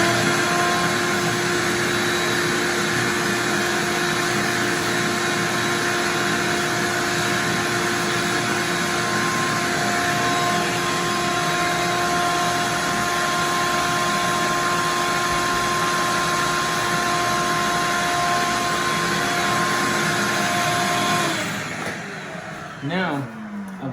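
A shop vacuum drones loudly and steadily while damp orange peel wall texture is sanded by hand, running alone for most of the stretch before winding down near the end.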